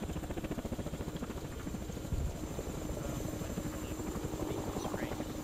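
In a military video game, an aircraft drones overhead with a steady, rhythmic thudding of rotor or propeller beats, continuous and fairly faint, with a brief louder bump midway and no speech over it.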